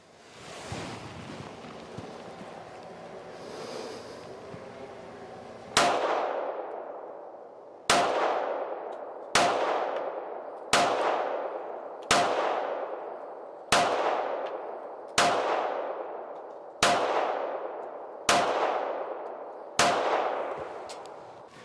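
Ten sharp 9mm pistol shots from a Glock 43X, fired one at a time at a steady pace about one and a half seconds apart. Each crack is loud and close and rings out with a decaying echo.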